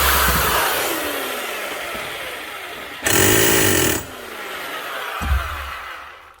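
A broken hammer drill with a slack chuck runs with a steady buzzing motor whine and then hammers in a harsher, louder burst before easing back, close and with no voices.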